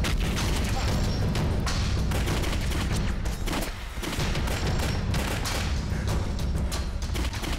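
Dense, sustained gunfire and explosions from a battle scene in a Chinese anti-Japanese war drama, loud and continuous, with shouted voices mixed in under the shots.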